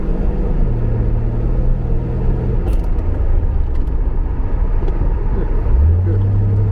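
Reliant Scimitar car driving on a test run with brake checks, a steady low engine rumble filling the clip with rising tonal engine notes near the start and again near the end.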